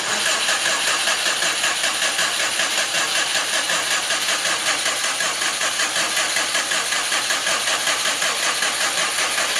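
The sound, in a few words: Subaru Impreza GT engine first start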